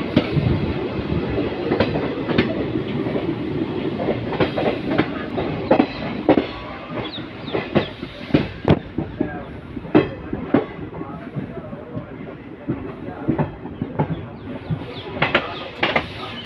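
Passenger train arriving at College station on a newly laid double track, with steady rumbling wheels and repeated sharp clickety-clack rail-joint beats, growing denser near the end.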